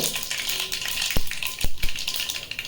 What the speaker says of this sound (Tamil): கடுகு எண்ணெய் எல்லாமே கரெக்டாக ஈக்குவலாக வந்துருச்சு, பொரிஞ்சிருச்சு கடுகு.